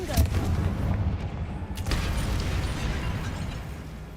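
A Confringo fire-blast spell bursts in Hogwarts Legacy: a sharp explosive pop up front, then a sustained rumbling roar of fire and debris that holds loud and steady to the end.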